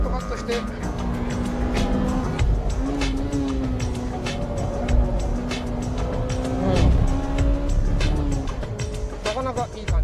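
A Honda Type R's engine pulls hard at full throttle up a steep incline, a loud continuous drone whose pitch climbs and dips with gear changes, with a voice talking over it throughout.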